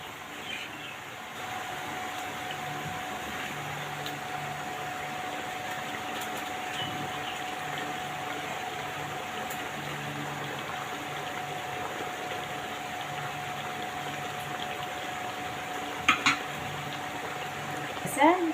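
Fish frying in a pan of spiced masala gives a steady, even sizzle and hiss that holds for the whole stretch, with a few sharp clicks and taps near the end.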